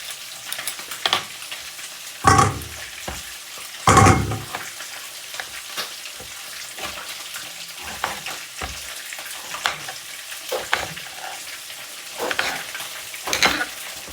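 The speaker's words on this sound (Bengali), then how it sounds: "ওদিকে মাছটা ভাজা হয়ে গেছে" Soft frying sizzle runs throughout, broken by scraping stirs and a few louder clattering bursts, with no voices.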